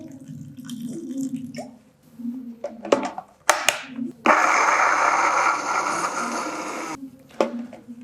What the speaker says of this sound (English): we'll add very little water to it, very little